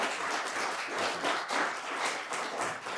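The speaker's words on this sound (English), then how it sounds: "And let's give the candidates a round of applause." Audience at a city council and mayoral candidate forum in Apache Junction applauding the candidates, a steady, dense wash of many hands clapping that carries on for the whole stretch with no talk over it.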